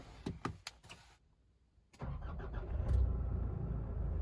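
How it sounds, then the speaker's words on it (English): A few clicks and clunks, a brief pause, then a diesel pickup truck engine starts and settles into a low, steady idle rumble close by. "The next thing you'll definitely feel is the diesel engine."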